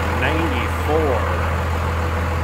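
A 1994 Dodge Ram 2500 regular cab with a Cummins turbo diesel idles in a steady low drone, close by, under a voice.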